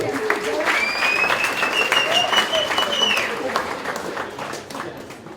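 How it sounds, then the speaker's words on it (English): Conference audience applauding steadily throughout, a dense wash of many hands that holds fairly even before tapering slightly toward the end, with a voice and a whistle-like tone briefly audible over it. "Can I ask that you just give yourselves a clap"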